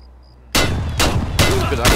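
Gunshots in Escape from Tarkov, loud close shots bursting in after a half-second of quiet, with three heavy blasts in quick succession.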